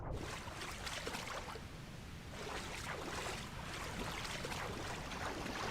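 Water rushing and rising as it fills an underground room in the game Enshrouded, a steady broadband wash with surging swells, close and continuous without any talk.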